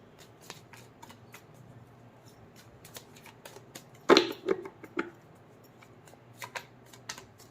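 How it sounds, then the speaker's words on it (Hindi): A tarot card deck is shuffled up close with quick riffling flicks and soft card slaps, including a louder burst midway, and no talking. "इस डेक से भी पहले कार्ड्स निकाल लेते हैं, उसके बाद रीडिंग स्टार्ट करते हैं।"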